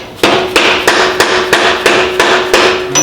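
A 1 3/4 inch socket is hammered to drive a part into a Dana 44 axle on a 1972 IH Scout II, producing about nine loud, evenly spaced metallic strikes with a ringing tone, close and alone.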